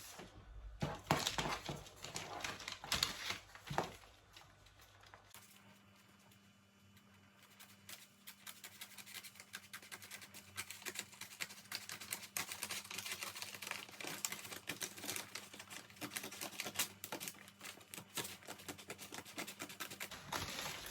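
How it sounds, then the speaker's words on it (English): Rapid snipping and crisp crunching of scissors cutting a paper sewing pattern, continuous and close, with a faint steady hum underneath during the second half. "Take your scissors and cut."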